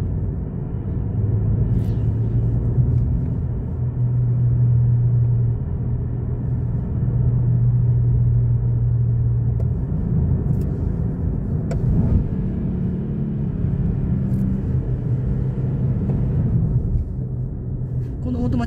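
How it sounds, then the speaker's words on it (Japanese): A Nissan Fairlady Z with a torque-converter automatic drives in a low gear along a winding road, its engine giving a steady, loud, droning rumble heard from inside the car while a voice talks over it. "こういったワインディングロードなどちょっとギアをシフトダウンしてですね、ちょっと低いギアで走ってみると"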